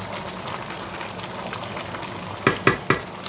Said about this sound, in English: And then I'm going to give that a stir.